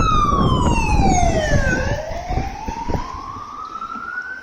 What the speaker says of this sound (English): flashing lights in the sun bright and the loud siren, unnecessary.